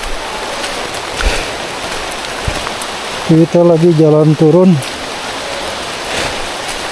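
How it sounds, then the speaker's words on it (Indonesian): Steady rain falls on hikers walking down Gunung Luhur mountain along a slippery, dark trail, a constant broadband hiss throughout, with a voice speaking briefly over it near the middle. "kita hujan-hujanan begini guys"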